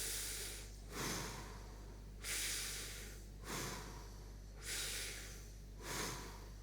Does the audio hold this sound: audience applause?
no